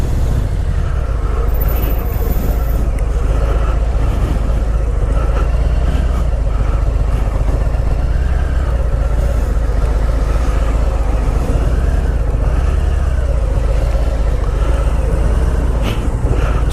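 A 2018 Harley-Davidson Softail Heritage Classic with a counterbalanced engine runs smoothly while being ridden, a loud continuous low rumble blended with heavy wind roar, steady with no talking.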